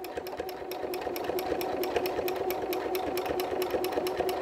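Sewing machine stitching steadily while free-motion quilting a meander pattern, a continuous close mechanical whir with rapid even needle ticks and no talking.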